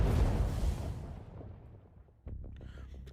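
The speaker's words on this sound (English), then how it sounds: "a violent explosion suddenly blasts open the exit" A violent explosion in the video game Path to Nowhere blasts open an exit, opening with a loud, dense roar that decays over about two seconds, followed by a smaller rumbling burst and scattered debris.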